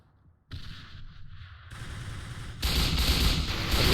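Bursts of gunfire in a tactical shooter video game, starting after a brief quiet and building into loud, dense rapid shots that grow heavier toward the end.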